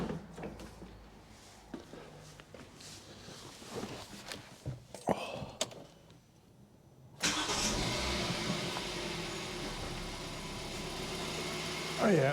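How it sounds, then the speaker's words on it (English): A 2012 Kia Picanto 1.2 petrol engine is cranked after a spark plug change, preceded by faint shuffling and clicks, then catches and settles into a steady, loud idle that runs to the end. "start it up, hopefully it will run smoothly"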